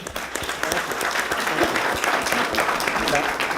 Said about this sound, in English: So let's give this guy another great round of applause.